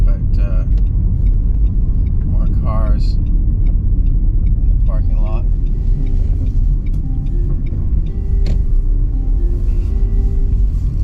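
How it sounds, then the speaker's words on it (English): Road traffic and cars moving through a parking lot on the northern coast of Ireland, a loud continuous low rumble of engines and passing vehicles, with people talking over it. "Traffic, but more cars in the parking lot."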